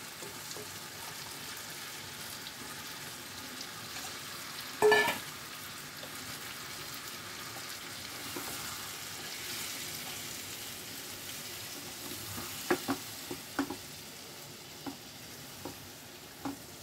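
Marinated chicken frying in a pan for chicken bhuna, a low, even sizzle running throughout with a louder clatter near the start and scattered spoon knocks and scrapes later, no voices.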